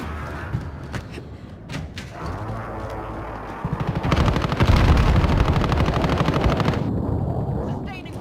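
Rapid automatic gunfire in a Call of Duty Warzone match, with scattered shots at first, then a dense sustained burst of loud repeated reports that tapers off near the end.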